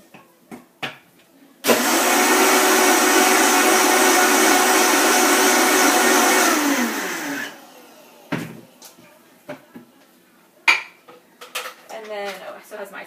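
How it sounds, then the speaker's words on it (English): A blender re-blends a Shakeology shake, running loud and steady for about six seconds before winding down, framed by clinks and knocks of kitchen handling before and after. "I'm going to re-blend this one."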